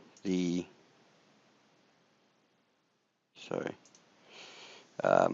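Computer mouse clicks in office administration software, heard as a few short separate clicks with quiet gaps between them, close and moderately loud.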